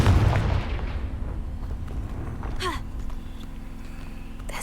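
Fiery Confringo blast spell in Hogwarts Legacy, a loud booming burst at the start fading into rumbling game ambience, with a brief whooshing streak shortly after.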